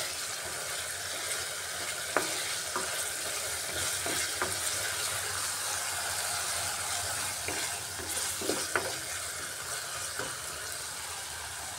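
Masala stir-fries in a pan for a potato dish, a constant loud sizzle broken by intermittent scrapes and taps of the stirring spoon, close up with no talking.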